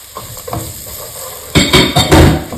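Garlic and onion hit a pan for chicken pastil, a quiet sizzle with light taps, then loud bursts of spatula stirring and clattering against the pan, close and busy, without speech.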